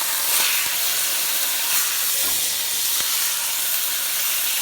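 A beef roast sears in a hot cast iron kettle with the heat turned off, a loud continuous sizzle and hiss close up, with a few faint knocks of the meat being moved.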